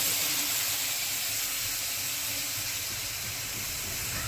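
Dal (lentils) simmers in a pot for everyday Maharashtrian varan, with a continuous broad steamy hiss and soft bubbling, steady and close, with no voices.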